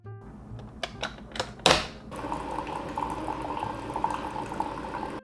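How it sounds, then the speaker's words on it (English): Hot water runs steadily from a tap after a brief clatter, a continuous splashing rush that carries on to the end at close range. "Hot water."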